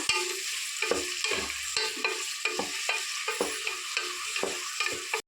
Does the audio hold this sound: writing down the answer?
no